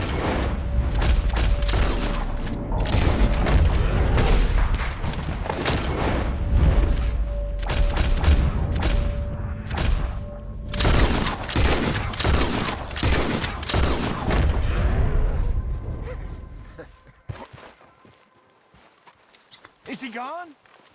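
Gunfire in Red Dead Redemption 2, a dense run of loud sharp shots and booms mixed with horse hooves and frantic game voices, continuing for most of the stretch before cutting off into near quiet.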